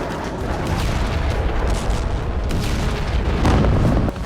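A loud explosion in an Israeli city comes through as a heavy, sustained booming rumble with swelling bursts of noise, strongest near the end before it briefly drops away.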